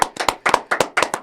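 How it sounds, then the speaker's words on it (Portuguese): A few people clapping for a guest on a sports talk show in a small studio, sparse and close with distinct, irregular individual claps in a quick uneven rhythm, no voices over it. "uma salva de palmas"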